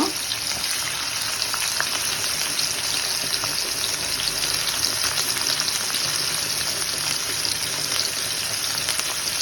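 Chopped onions with cumin seeds fry in oil in a pan, giving a steady, loud, close sizzle that holds evenly throughout with a faint watery crackle and no voices.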